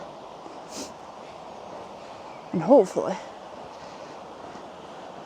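A river in the Peak District flows as a steady, even rush that fills the whole stretch, with someone briefly speaking over it partway through.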